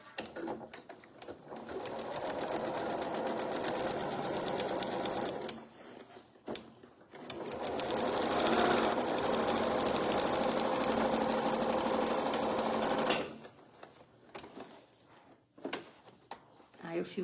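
A domestic sewing machine fitted with a standard household presser foot stitches in two long, steady runs of rapid mechanical whirring and clatter, close and loud, separated by brief pauses where someone talks.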